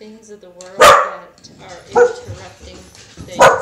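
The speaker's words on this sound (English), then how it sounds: "This time they seem to be really barking a lot," Dogs bark in three loud, sharp bursts spaced about a second apart, with a person talking quietly between them.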